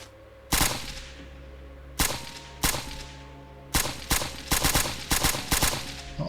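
A 5.56 rifle fires in the survival game Surroundead: loud, sharp single shots spaced apart, then a quicker string of rounds, each cracking out over a low steady background hum.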